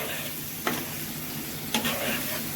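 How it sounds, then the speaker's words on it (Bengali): Spices fry in leftover fish-frying oil with a steady, even close sizzle, broken by two quick stirring knocks against the pan. "ওই মাছ ভাজার তেল ছিল ওই তেলের মধ্যে মশলাগুলো দিয়ে দিলাম"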